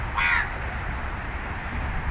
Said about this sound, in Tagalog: Ibon na lang natira.